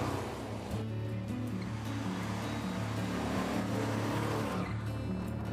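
A Pontiac GTO Judge muscle car engine rumbles steadily nearby with a deep, throaty idle, heavy low-end growl and some background wash.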